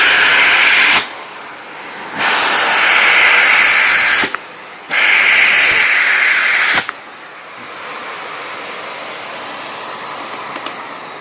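A Miele Callisto S5281 canister vacuum cleaner with a fresh bag, pulling strong suction in loud rushing bursts that switch on and off several times, with a quieter steady hiss between them and no voices.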